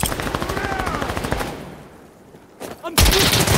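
Rapid automatic gunfire in the shooter game Insurgency: Sandstorm, a dense rattling burst that fades into a brief lull before more loud shots crack back in near the end.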